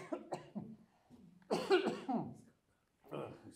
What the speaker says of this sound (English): I've quite the cough now.